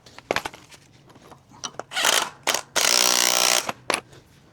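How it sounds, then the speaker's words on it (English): A bolt is driven into a Toro Z Master mower with close, loud bursts of ratcheting and metallic clatter, including a sustained whirring stretch, with no talking. "Now, the bolt is coming in."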